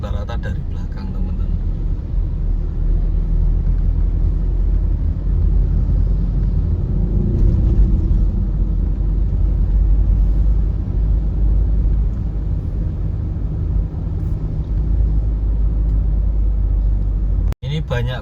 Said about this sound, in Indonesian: Di sini banyak bis pariwisata